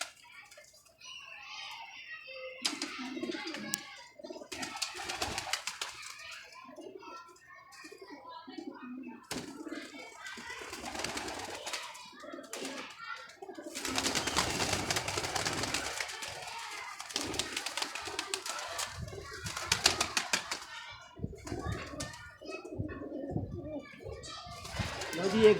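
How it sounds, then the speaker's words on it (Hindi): Chinese breed pigeons coo in soft repeated bursts close by, their throaty calls rising and falling over about twenty-five seconds, with a voice talking at intervals among them. "ये चीना कबूतर है"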